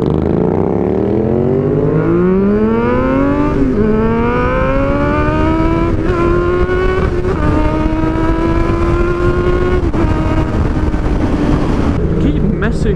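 A car engine with loud exhaust pipes revving up through the gears on a forest drive, a continuous close roar with rising pitch and crackles, and a shift dip near the end.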